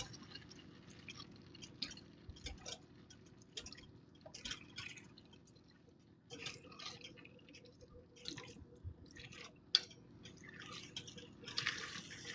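Chili gets stirred in a pot with a spatula, making faint, wet squishing and soft scraping sounds in irregular strokes at a low level throughout.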